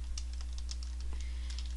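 A few keys tapped on a computer keyboard for a Control, Shift and Tab shortcut, a short cluster of light plastic clicks close by over a steady low electrical hum.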